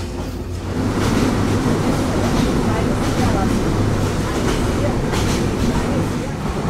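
A passenger train travels at night on the Ishwardi line toward Poradah junction, with air rushing in through an open window. A loud, continuous close rumble carries faint rhythmic clacking from the rails.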